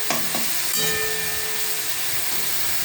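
Beet greens and eggplant sizzle and fry in a pan while being stirred, a steady close hiss with a few soft scraping knocks near the start.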